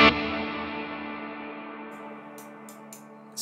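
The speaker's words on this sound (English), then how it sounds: "I usually like to throw on a nice big reverb." A single electric guitar chord through a Fractal FM3 modelling a Morgan AC-20 amp rings out and decays slowly into a long, washy reverb tail, with a few faint clicks near the end.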